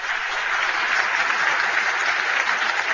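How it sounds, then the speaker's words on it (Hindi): Steady, loud audience applause at a live talk event, continuous dense clapping throughout with no pauses. "भाई जोरदार तालियां इनके लिए।"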